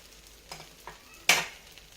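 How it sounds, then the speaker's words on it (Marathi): A dosa frying on a pan with a little oil drizzled around its edges gives a soft, quiet hiss, with a few faint taps and one sharp burst of sizzle partway through. "भाजून घ्यायचं आपल्याला दुसऱ्या पण साईडने तर थोडं थोडं तेल मी सोडलेलं आहे कडने"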